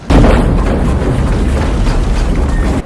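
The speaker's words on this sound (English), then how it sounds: "with all these explosions and all this fire" A sustained, loud rumbling roar of explosions and fire from the film Double Team, dense and continuous, with deep booming low end throughout and no clear breaks.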